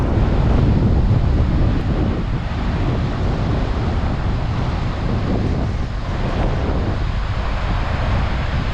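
Steady wind buffeting the microphone over the wash of waves breaking on the shore at Red Bluff Beach, Kalbarri, Western Australia, continuous and fairly loud with no voices.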